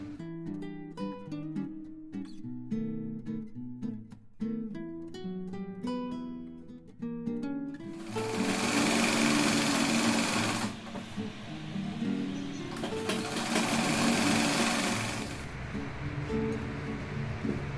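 A sewing machine stitches the side seams of a lined kurti with cups attached, its steady mechanical whirr running loud and close for several seconds after a melodic intro and pausing briefly midway.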